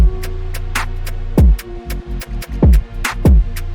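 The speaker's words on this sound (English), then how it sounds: "I'm going to play the 808s." Booming 808 bass drum hits with gliding low tails, repeating in a beat pattern alongside crisp hi-hat ticks and snappy percussion, loud and close.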